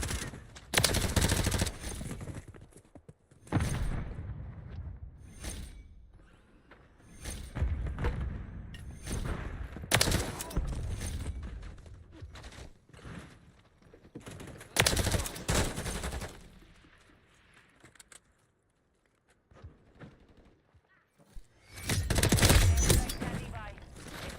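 Video game gunfire rattles in several loud automatic bursts separated by quieter gaps, with brief distant shots in between.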